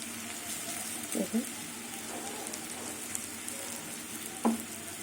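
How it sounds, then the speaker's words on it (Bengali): Bitter gourd fries in oil, giving a soft, steady sizzling hiss with a couple of brief clattering stirs or utensil knocks, moderately quiet and close. "কিছুক্ষণ আমি ভাজবো ভাজতে ভাজতে উচ্ছে ভাজাটা হয়ে যাবে"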